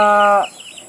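A pet chick, about a month old, kept in a brooder at feeding time, gives one loud, clear call up close, followed by softer, faint chirping.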